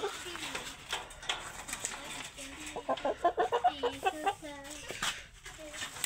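Several chickens cluck and squawk nearby in short bursts while feeding, busy and overlapping, with occasional talking in the background.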